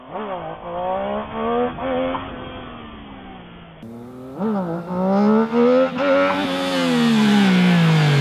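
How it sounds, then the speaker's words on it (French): A motorcycle engine revs hard through a clutch-popped wheelie, in two loud, rising bursts with a pause between them, the pitch climbing steeply at the end. "Coup d'embrayage, vous accélérez, vous relâchez, vous tendez les bras."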